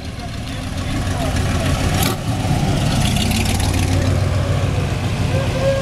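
Several vehicles, including motorcycles and cars, pass close by on a street in a loud, continuous engine roar that swells briefly around the middle, with voices heard over the traffic.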